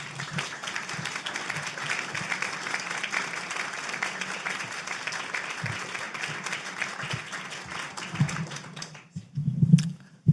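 An audience claps steadily to welcome lecturer Anne Carson to a small, living-room-like lecture space, the sustained applause thinning and fading out near the end.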